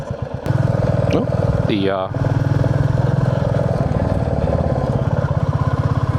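A motorcycle puttering along slowly, its engine close and steady with a brief change in tone partway through, and someone speaking briefly over it.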